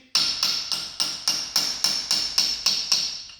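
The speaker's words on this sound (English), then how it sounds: "It's more of a ringing sound now, right? And my hammer's kind of bouncing off." A hammer strikes an engine timing gear as the camshaft and timing chain are installed. About eleven evenly spaced, close taps each give a bright metallic ring that fades quickly, with no talking.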